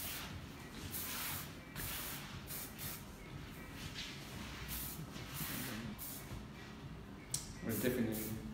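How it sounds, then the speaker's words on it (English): Hair spray hisses in repeated broad bursts during a layered bob haircut, fairly close and steady, with a faint voice underneath. "I'll use some spray."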